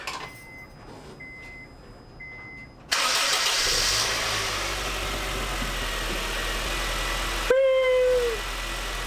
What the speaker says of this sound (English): let's make sure and see if the car still starts